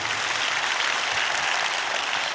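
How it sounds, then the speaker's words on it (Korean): Congregation at a Korean church revival service applauding in praise, a steady dense wash of clapping that holds evenly for a couple of seconds with no voices over it. "주님께 영광의 박수를 드리겠습니다"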